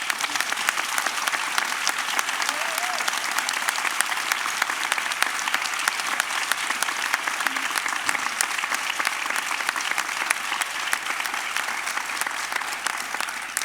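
A conference audience applauds the outgoing president at the closing of a congress: long, dense, sustained clapping from a large crowd, steady and loud throughout without easing off.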